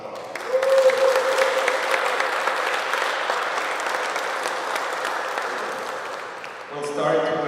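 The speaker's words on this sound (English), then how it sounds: "Give yourselves some round of applause" Players and spectators at a wheelchair ultimate championship ceremony give sustained applause, a broad wash of clapping with a brief whistle near the start and a voice returning at the very end.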